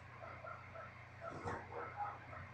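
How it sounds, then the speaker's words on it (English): The neighbor's dog gives faint, distant barks and yips, soft and intermittent over a quiet background hum. "saying hi to the neighbor's dog"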